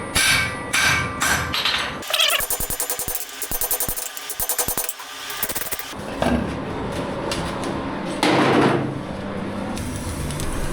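A hammer strikes nuts being forged on an anvil, with a series of rapid ringing metallic blows, bursts of close, dense clanging, and louder impacts later on.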